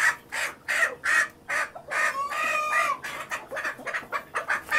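Hens clucking in a backyard flock of about fifteen, with a rooster crowing loudly near the middle; busy, close squawks and clucks in bursts, no talking.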